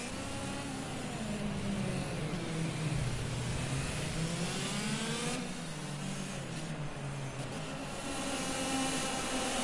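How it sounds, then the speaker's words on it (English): Shift karts racing on a go-kart track, a steady loud drone of mid-pitched engines revving and shifting as they pass, continuous with no talk. "it will be the go-karts that you're seeing on the screen right now, the go-kart shift karts"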